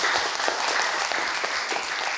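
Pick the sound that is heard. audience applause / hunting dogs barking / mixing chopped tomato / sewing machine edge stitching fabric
audience applause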